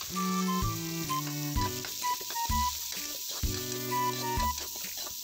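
Garlic, onion and meat sauté in a pan for pancit, giving a steady, hissing sizzle that runs under prominent melodic background music.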